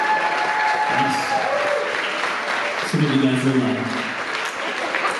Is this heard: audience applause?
yes